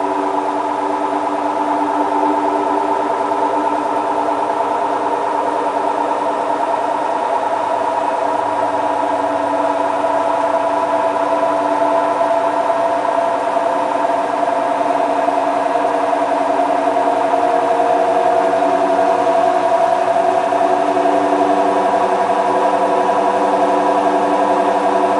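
A Hotpoint Ultima WT960 washing machine on a boil wash spin cycle hums steadily for a long stretch, a constant droning whir at moderate level, slightly unbalanced, with no talk.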